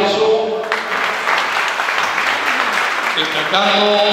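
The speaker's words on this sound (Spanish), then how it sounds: "Repetimos el aplauso." Audience at an inauguration ceremony for new local authorities in Riobamba applauding with dense, steady clapping, close and loud, while a voice speaks faintly over it.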